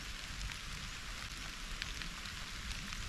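Rain falls steadily in a forest, an even hiss of drops on leaves and ground with no breaks, soft and diffuse.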